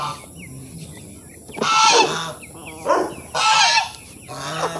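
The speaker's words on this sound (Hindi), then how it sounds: "देसी मुर्गों का पालन भी करते हैं, मुर्गे रखे हुए हैं देसी मुर्गे" Desi chickens make loud, harsh honking calls in a few bursts, close by, with quieter squawks between them and no talking.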